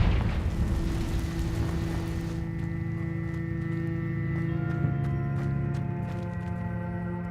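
Confringo fire-blast spell cast in Hogwarts Legacy, a loud burst at the start that rolls into a sustained booming rumble and hum, fading gradually while faint clicks and tones continue behind.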